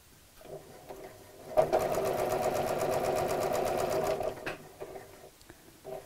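A sewing machine stitches a fabric dog doorstop slowly around a curve with a quarter-inch seam, a close, steady mechanical whir for a few seconds, with quieter handling sounds before and after.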